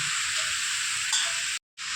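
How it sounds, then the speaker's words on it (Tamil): Steady sizzling of chickpea tamarind curry in a pot with soft scraping of a spoon stirring, briefly cutting out near the end. "நல்லா உப்பு போட்டு நல்லா ஒரு கிளறணும்"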